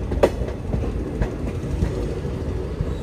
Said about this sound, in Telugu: ఆ ట్రైన్ కిందికి వెళ్ళి మన ట్రైన్ మీదికి వెళ్ళిపోతున్నాం